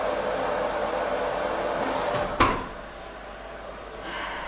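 An oven door with a faulty latch that won't close properly is pushed shut with a single sharp clunk midway, set against a steady background hum.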